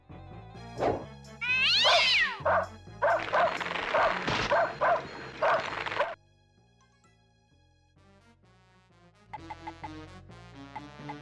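Cartoon cat meows and yowls from the PS1 adventure game Blazing Dragons, several loud rising cries over game music, followed by a quieter musical passage with no talking.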